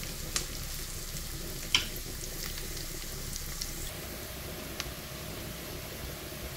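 Quiet, steady sizzle of garlic frying in a pan while cooking spinach and mushrooms, a soft hiss with a few faint clicks and no speech.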